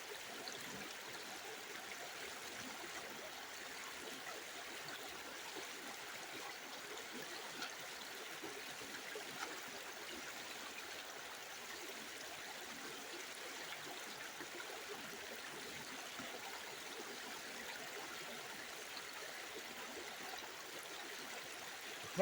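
Water and stirred clay slurry run down a gold prospecting sluice, a faint, steady trickling wash that continues evenly and alone throughout.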